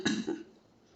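A voice imitates a cicada's cough with a rough, throaty burst followed by a second shorter cough, close and fairly quiet, then trailing into silence.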